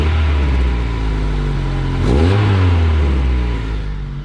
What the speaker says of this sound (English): Sounds like it's got a bit of an exhaust leak.